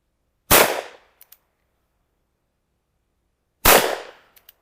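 Two loud, sharp reports from a Smith & Wesson Schofield revolver, about three seconds apart, each followed by a brief decay and faint metallic clinks from the target shortly after, with no talking.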